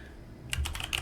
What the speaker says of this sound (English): We could type out the address,